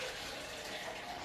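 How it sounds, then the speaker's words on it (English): Water pours steadily from a tap into a glass, a continuous broadband rush and splash with no pauses, fairly close and alone. "fill up your glass of water"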